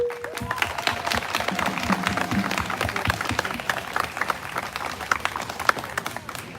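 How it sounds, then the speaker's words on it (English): A crowd at a peaceful protest claps steadily with scattered cheers, a sustained outdoor round of applause with sharp individual claps standing out near the listener. "Please give a real round of applause for my brother Ed."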